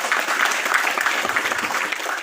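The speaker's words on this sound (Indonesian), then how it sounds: "Tepuk tangan untuk semuanya." An audience at a speech by the regent of Bandung breaks into sustained, dense applause, an even roar of many hands clapping that tapers off at the end.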